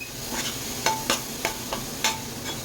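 Spice paste sizzling in oil with a steady hiss, punctuated by several sharp scraping clicks of a spoon stirring the pan, while making Konkani-style buttermilk kadhi.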